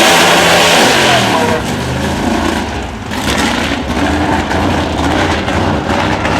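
A drag racing car revs hard at an IHRA Pro Am event at Maryland International Raceway, its engine note climbing loud and close and then settling into a rough, throbbing roar, with no talk.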